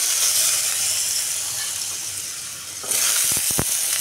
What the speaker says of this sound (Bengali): এবার আমি প্রথমে কড়াইয়ের মধ্যে আলুটি ভেজে নিব